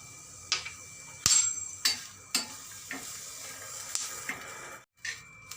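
Green chillies and then garlic roasting in a dry pan over low heat, a soft sizzle broken by sharp spatula clicks and scrapes at an irregular pace, with one brief drop to near silence.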